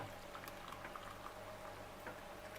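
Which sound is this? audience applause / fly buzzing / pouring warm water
pouring warm water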